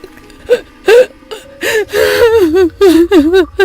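A woman gasps for air in repeated sharp, strained breaths, some voiced and whimpering, loud and close with short pauses between, no talking.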